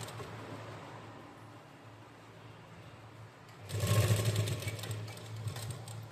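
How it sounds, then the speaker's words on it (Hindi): A sewing machine runs in a single short burst partway through, stitching a gathered umbrella frock with its lining after a quiet stretch of low hum. "ये हमने बीच तक सिलाई कर ली"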